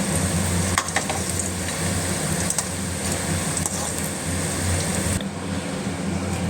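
Butter murukku frying in hot oil in a home kitchen, a steady loud crackling sizzle running throughout with occasional sharper pops and ladle stirs.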